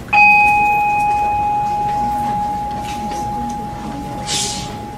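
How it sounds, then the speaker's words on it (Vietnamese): A communal house bell in Vietnam gives one clear struck ding that rings on steadily and fades slowly over several seconds, with faint background noise and a brief hiss near the end. "chuông này là chuông của đình, không phải chuông chùa"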